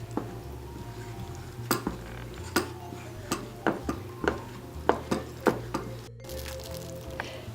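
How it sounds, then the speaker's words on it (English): Spoon scraping and clinking against a pot while stirring a thick chocolate, peanut butter and vanilla mixture, with a steady series of sharp taps over a low background hum. "Add the peanut butter and the vanilla extract and then stir until it's all mixed."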